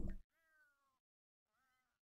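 Two soft, drawn-out meows from cats in The Sims video game, separated by a pause of silence, faint and thin after a brief louder burst at the start.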